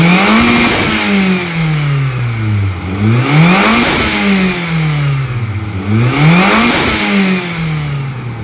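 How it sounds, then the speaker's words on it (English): Stock, well-kept Toyota Caldina GT Four N, a 260 bhp turbocharged car, revved three times in a row, each rise climbing sharply then falling back toward idle, loud and close with no talk over it. "So we're going to take a listen at the engine"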